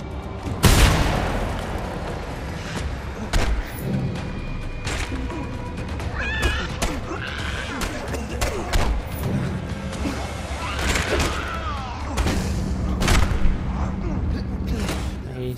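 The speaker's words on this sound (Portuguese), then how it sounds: "vou dar uns tiros também" Gunshots and explosive crashes in the video game Mad Max burst out repeatedly at irregular intervals, loud and close, amid clanging combat impacts, grunts and shouted voices throughout the fight.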